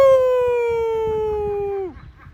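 A single loud siren wail holds a steady, slightly falling pitch, then drops sharply and cuts off, with muffled background chatter underneath.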